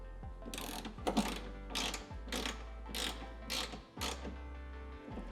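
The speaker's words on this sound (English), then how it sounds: "I'm going to go ahead and cinch this down with my 17mm socket." A 17mm socket ratchet tightens an aluminum intake clamp on a Subaru STI, with about six short bursts of quick clicking separated by brief pauses, close and fairly quiet.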